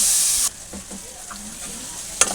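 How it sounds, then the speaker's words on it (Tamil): Tomato and onion sauté in a pan for a dried-fish curry, a loud sizzle that drops to a softer fry with faint stirring, then a sharp utensil clink near the end. "தக்காளி வெங்காயம் நல்லாவே வதங்கிடுச்சு"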